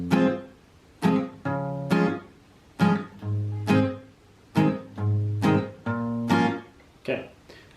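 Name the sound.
acoustic guitar playing part 2 chords of a song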